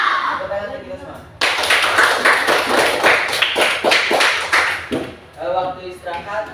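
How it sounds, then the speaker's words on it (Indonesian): Sixth-grade pupils in an elementary school classroom clap their hands together, a dense burst of close applause lasting several seconds before fading, with voices talking before and after. "Tepuk tangan untuk kita semua"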